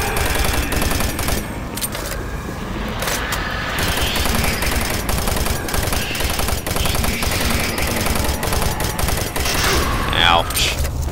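Sustained rapid machine gun fire in the video game Doom 3: Resurrection of Evil, dense continuous bursts filling the whole stretch, loud and close, with a player talking over the shooting.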